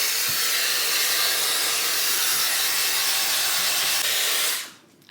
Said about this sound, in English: you're gonna turn the diffuser on, click this little dot, and that is how you get the cold air to come on